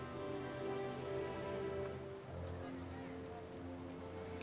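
Steady rain in the video game Chicken Police falls as a continuous hiss of drops pattering on surfaces, a dense even wash with a low hum underneath, with no voices heard.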